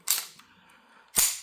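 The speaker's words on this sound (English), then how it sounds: "So first of all, let's clear our weapon." A Glock pistol being cleared, its slide racked with two sharp, close metallic clacks about a second apart and quiet between them.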